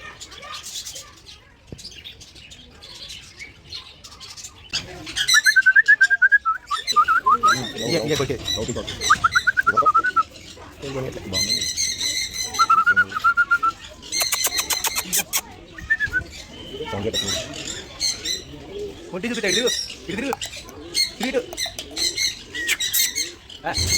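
A black, white and red bird calls with high chirping notes amid people talking nearby, the bird sounds intermittent and partly under the voices.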